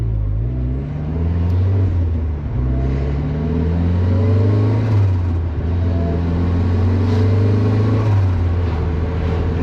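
A turbocharged 1997 Mazda Miata with a Kraken turbo system and a Turbosmart blow-off valve drives along, its engine droning loudly from inside the car as it rises and falls through the revs, with no talk over it.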